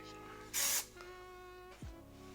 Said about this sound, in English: this is the Until Dawn limited edition glitter waterproof setting spray